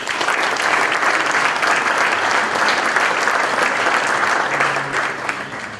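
Loud, dense applause from a congress audience welcoming guests at a KAIZEN conference, a steady sustained clatter of many hands throughout.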